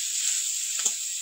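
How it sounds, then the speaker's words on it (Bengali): Shrimp with turmeric and salt fry in a pan over reddened onions, a bright steady hiss close to the microphone with one soft stirring bump near the end. "চিংড়ি মাছটা একটু ভেজে নেবো ভালো করে"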